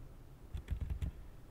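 Quiet typing on a computer keyboard: a short burst of about five quick keystrokes clicking close by in a still room.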